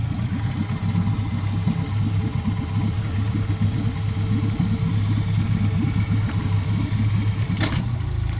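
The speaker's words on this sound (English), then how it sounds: "after some much work, we have a working motor" A working electric motor runs steadily with a low, rhythmic pulsing rumble, close and fairly loud, holding an even pace until a brief clunk near the end.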